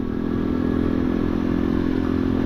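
A 2021 Bullit Hero motorcycle rides along with a steady, loud engine drone and rumble, heard close and continuous with no speech over it.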